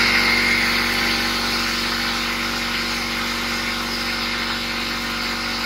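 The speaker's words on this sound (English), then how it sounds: "I've got my other half inch impact here for the 7/8 socket." Half-inch impact wrench fitted with a 7/8 silver socket, used on the center bolt of a Toro Recycler 22-inch mower; steady close mechanical whirring with a constant hum throughout, no talk.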